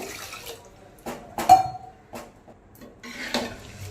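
Water splashes and trickles into a metal pot of tiffin sambar in a few short bursts, with faint clinks of the vessel between pours, close by and alone.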